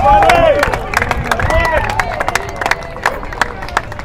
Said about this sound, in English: While McKibbin wows the crowd